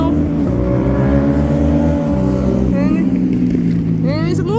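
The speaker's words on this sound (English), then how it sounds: "there's a motorcycle driving by making a loud noise" A motorcycle drives by loudly outdoors, its engine a steady, close rumble that holds throughout, with a slight shift in pitch as it passes.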